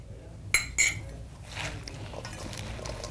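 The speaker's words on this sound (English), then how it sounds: "Toss the olive oil over the salad" Salad being tossed with olive oil in a bowl: two sharp clinks of utensils against the bowl near the start, then soft, steady rustling and mixing.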